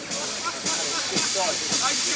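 Steam hisses steadily from a steam locomotive on the Ravenglass and Eskdale Railway at a wet gala weekend as it moves forward, with a broad, continuous rush and a few soft chuffs.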